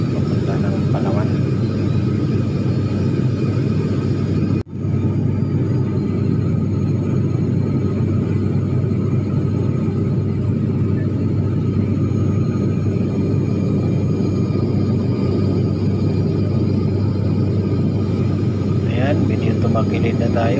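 Cabin of an airplane in flight after departing Mactan Airport, bound for Palawan, fills the scene with a constant loud low engine drone and airflow rumble, and voices talk over it.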